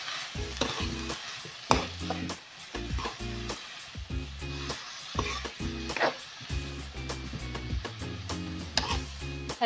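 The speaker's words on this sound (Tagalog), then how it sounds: "Haluin natin ulit." Vegetarian pancit with vegetables is stirred while it fries in a pan, the utensil knocking and scraping in a quick, regular rhythm over a continuous sizzle.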